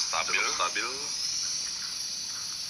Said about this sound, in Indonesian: Kemudian di latarnya ada suara tonggeret ya, suaranya serangga.